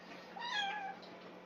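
A female cat gives a single rising-and-falling meow, clear and fairly close, over a quiet room with a low steady hum.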